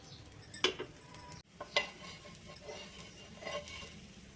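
Toasted wheat bread slid and set onto a plate, with a few light clinks and scrapes of utensils against the dish in short bursts, close and fairly quiet.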